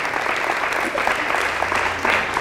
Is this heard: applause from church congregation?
yes